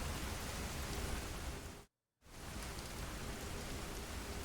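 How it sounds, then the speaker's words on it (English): Heavy rain pours in a dense, steady hiss, cutting out abruptly for a split second before resuming just as strong. "The rain's pretty loud."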